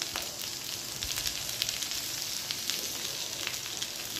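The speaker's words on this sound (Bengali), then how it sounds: "আবারও একটু ভালো করে নাড়াচাড়া করে মশলাটাকে মিশিয়ে নেব।" Ridge gourd frying in a pan after salt, a little sugar and turmeric go in, giving a steady, close sizzle with faint scraping stirs throughout and no talk.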